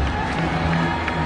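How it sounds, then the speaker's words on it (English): Crowd and teammates at a one-day international cricket match cheer and applaud a batsman's century, a dense, loud, continuous roar of clapping and shouting throughout. "Gets a good round of applause from his teammates and also from the crowd."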